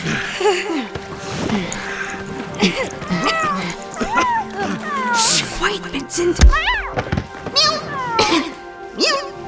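Several high, sliding meows repeat over a busy mix of voices and music, some close and loud, others softer in between short spoken lines.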